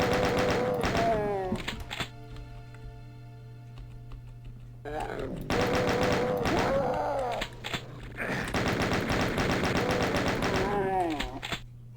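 Rapid bursts of chaingunner machine-gun fire from Doom 2 rattle loudly in several stretches, with game effects and music underneath and someone talking over the action.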